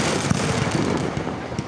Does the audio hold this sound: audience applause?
no